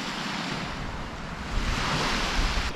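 Sea waves at Mogi beach on Tsushima, a white-sand shore, rolling in with a soft continuous wash that swells louder partway through, mixed with some wind buffeting the microphone and no voices.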